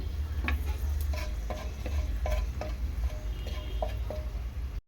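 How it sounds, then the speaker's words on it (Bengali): Dried red chilli, split in two, sizzling in hot oil with cinnamon, cloves and cardamom for a potato and paneer curry, a steady close fry with light stirring clicks, ending abruptly. "এখন একটুখানি শুকনো লঙ্কা দিয়ে দেবো"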